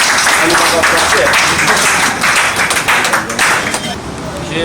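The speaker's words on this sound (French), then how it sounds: "Applaudissez-moi s'il vous plaît." Loud, close applause and clapping break out at a party meeting with teachers in Kinshasa. The clapping is dense and sustained, then loosens and softens near the end, with voices audible among the claps.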